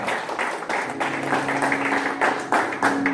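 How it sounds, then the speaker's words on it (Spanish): Church congregation applauding during a sermon, a steady, fairly close wash of clapping from many hands with slight surges in intensity. "¿Cuántos dan un fuerte aplauso al Señor en esta hora?"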